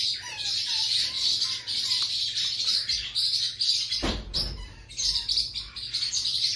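A pet parrot chirps and whistles in quick repeated bursts close by, with a louder brief squawk midway and no talking.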